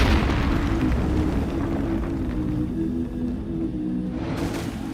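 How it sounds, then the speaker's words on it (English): Sustained low rumbling explosion roar from an animated superhero series death scene, with a character blowing himself up in a self-sacrifice; the blast stays loud and steady throughout, with continuous deep boom and no voices. "once the explosion went off"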